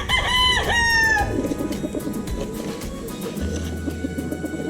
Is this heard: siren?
no